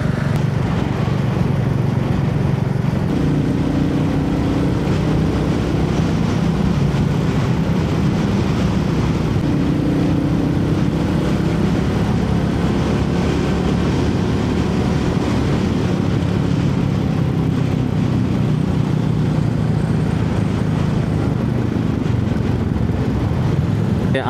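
A Royal Enfield motorcycle cruising along a road at moderate speed on a club ride, heard as a loud, unbroken engine drone mixed with rushing wind for the whole stretch.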